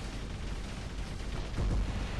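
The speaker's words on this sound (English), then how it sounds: "They're still shooting into the shield." Robots in the War Robots game firing guns into a shield, a dense, continuous roar of rapid gunfire and impacts with a heavier thump near the end.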